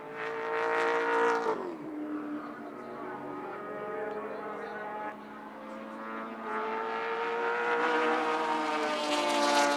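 Touring cars at Wanneroo Raceway in 1983, engines roaring loudly with rising and falling pitch as cars accelerate and change gear, several engine tones overlapping for the whole stretch.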